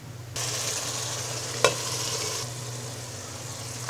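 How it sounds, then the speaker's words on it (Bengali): A spice paste of turmeric, chili and onion cooks down in a pan, a steady moderate sizzle starting abruptly, with one sharp spatula knock and continuous stirring scrapes, no one talking. "এবার 2 মিনিট মশলাটাকে কষিয়ে নিব।"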